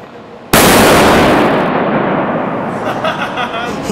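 Giant capacitors are discharged into metallic magnesium with potassium permanganate, setting off a single loud, sudden blast that decays into a lingering hiss and rumble.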